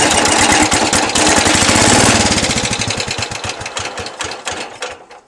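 A Cub Cadet 107 lawn tractor engine cold-starts at 20 degrees, running loud with rapid, rough, clattering firing that gradually slows and fades before cutting out, close by and with no talking.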